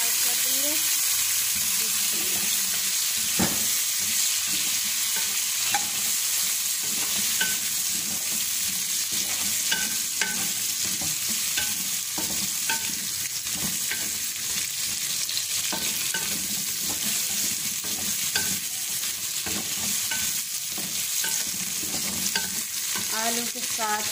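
Potatoes fry in hot oil for a village-style black daal, giving a constant close sizzle with repeated stirring scrapes and clinks throughout.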